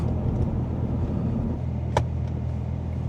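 Hyundai Ioniq electric car with 166,000 km, accelerating hard up a small 12% hill, heard from inside as a steady low road and tyre rumble with a faint motor whine, one brief click partway through.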